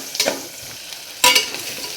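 Onion, tomato and spice powders fry in oil under a quiet sizzle, broken by two short, sharp bursts of stirring or scraping in the pan.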